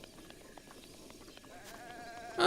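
A goat in Zelda: Breath of the Wild gives a short, clear bleat near the end, rising sharply out of quiet game ambience, with a faint wavering cry just before it.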